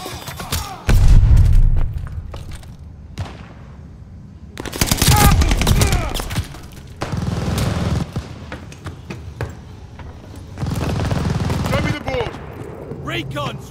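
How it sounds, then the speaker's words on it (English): Call of Duty: Vanguard match on the Sub Pens map with a grenade blast and bursts of machine-gun fire, loud booming explosions and rattling shots in several bursts, with in-game voices calling out over the action. "Throwing grenade."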